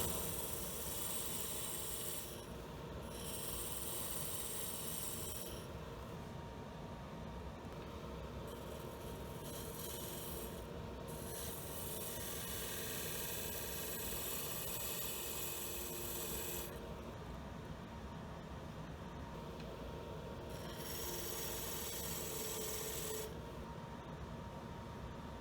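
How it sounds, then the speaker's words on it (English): A Bedan tool cuts a tenon on a wood lathe, giving a continuous rasping, scraping drone with the spinning workpiece humming underneath, steady and close, the cut easing off and resuming in several bursts. "I'm using a Bedan tool to cut this tenon now."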